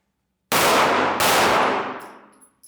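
Two loud gunshots, about 0.7 seconds apart, crack out during danger-close target engagement training. Each blast is close and sharp, and its echo rolls away slowly through the range.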